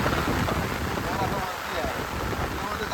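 Steady rain falls over a village, a dense continuous hiss of drops spread across the whole clip at moderate loudness, with no clear voices on top.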